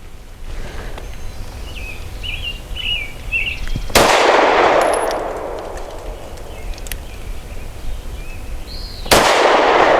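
Two loud, sharp shots from a Steyr M9-A2 MF pistol firing 124 grain segmented hollow points, about five seconds apart, each with a ringing decay, and faint chirps in the quiet before the first.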